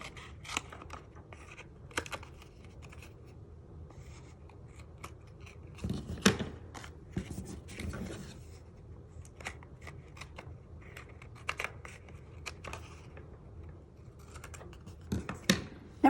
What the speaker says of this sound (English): now we're just gonna snip off anything that's hanging off